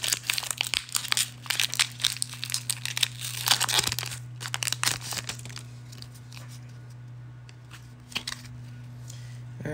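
Crinkly foil wrapper of a Pokémon trading card pack being torn open by hand, a run of close, sharp crackling rips and rustles in bursts, fading to quieter handling at the end.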